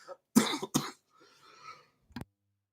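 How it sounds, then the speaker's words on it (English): A few harsh coughs in quick succession, close and loud, followed by a brief quiet stretch and one last short cough. "wouldn't be a Saturday morning live stream without at least one random coughing fit."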